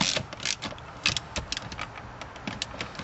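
A wrench tightens the front bolt of a solid 5-speed shifter in an Audi A4, working close by with the ashtray in place. The clicks and metallic rattles are uneven and fairly quiet, and no one speaks.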